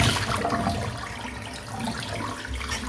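Running water rinsing shaving lather off a face at a bathroom sink, a steady close splashing rush with small sloshing variations, continuous throughout.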